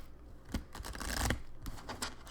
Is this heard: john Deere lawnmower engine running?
no